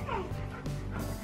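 A newborn Siberian Husky puppy whimpers softly in a couple of thin, high squeaks close by, brief and quiet against a low background.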